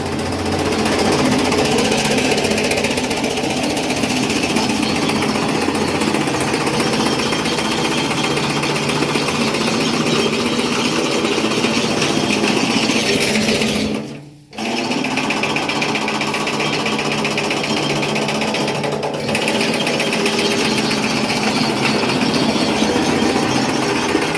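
A loud Ambika Agro chaff cutter runs steadily cutting green Napier grass with a dense, rattling mechanical drone, broken by a brief cutout midway before resuming at the same level.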